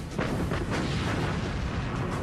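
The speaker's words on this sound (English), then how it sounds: "Bismarck fires her 8 15-inch guns." The battleship Bismarck fires a broadside from its eight 15-inch guns, heard as a loud, continuous, rumbling roar of heavy gunfire that fills the whole moment with no pauses.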